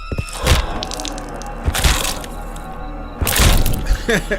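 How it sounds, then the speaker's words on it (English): Head-smashing sound effect from a masked-killer horror movie, three heavy cracking impacts spaced roughly a second apart with crunching, breaking texture, loud and close amid dense film sound. "He's smashing her head too."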